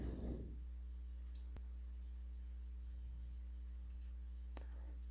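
Computer mouse clicks while modelling in CAD software, two or three sharp isolated clicks spaced a few seconds apart over a steady low electrical hum, fairly quiet, with no voice.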